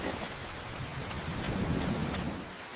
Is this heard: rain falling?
yes